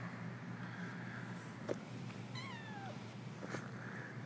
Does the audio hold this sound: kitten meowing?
yes